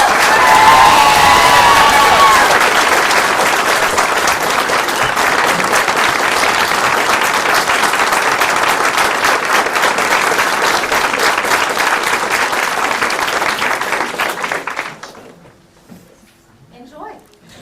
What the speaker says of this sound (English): let's all clap for our new